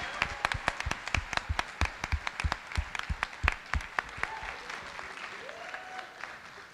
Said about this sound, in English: how about another round of applause for all of our inductees, previous members, officers, and Ms. Souza?